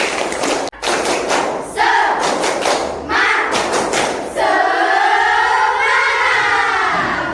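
A school class claps together in a quick rhythmic spirit-clap pattern of bursts, then breaks into loud sustained cheering and shouting.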